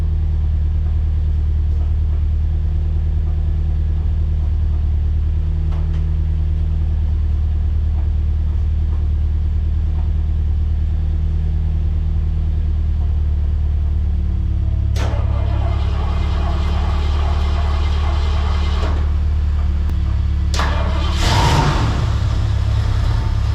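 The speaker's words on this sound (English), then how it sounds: "give you guys a good cold start here" A 1973 Mercury Comet Maverick engine starts cold, its steady low idle rumble filling the space before a sharper crank and rev burst near the end, with another car running nearby.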